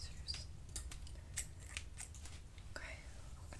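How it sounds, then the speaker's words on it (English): Scissors snip close and crisp during an ASMR haircut, a quick irregular run of short metallic cuts over a quiet, soft background. "My scissors."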